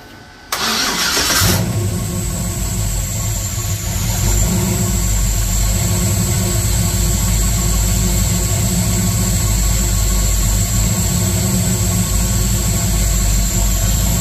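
A car engine cranks and catches after a brief burst, then settles into a steady, loud idle that runs continuously without any talking.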